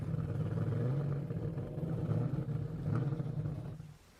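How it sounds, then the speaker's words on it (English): A sports car with a 6-speed manual transmission rumbles with a deep, steady engine note that rises and falls slightly over a few seconds, then fades near the end; no voices. "But it's 6-speed manual transmission, but it sounds like an exotic car."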